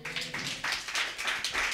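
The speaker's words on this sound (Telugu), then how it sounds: "గట్టిగా చప్పట్లు కొడదాం" A church congregation at a Sunday service claps together in quick rhythmic bursts, loud and close, with no talking over it.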